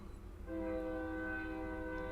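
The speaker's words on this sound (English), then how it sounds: "So there is a train" A train horn sounds from a distance as a train passes, a steady sustained blare over low rumbling background that holds from about half a second to the end.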